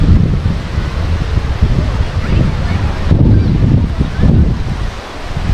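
Ocean waves breaking at a beach at Long Beach, New York, as a broad continuous roar of surf buffeted by wind noise across the microphone.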